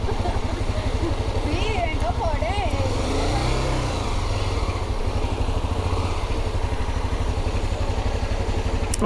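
A motorcycle engine droning steadily while riding on a road trip from Pensilvania to Norcasia, a loud continuous rumble with wind noise and a voice speaking briefly over it.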